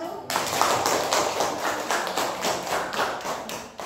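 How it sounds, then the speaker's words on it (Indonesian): A classroom of students claps together for a student group, a steady dense patter of many hands that runs throughout at close range. "Ya, boleh tepuk tangan dulu untuk kelompok 1."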